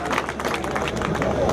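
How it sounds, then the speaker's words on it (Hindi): An audience at a Karn Jayanti celebration gathering claps in welcome, a loud, dense burst of applause mixed with crowd voices and general hubbub. "स्वागत में और जोरदार तालियां बजाई जाए।"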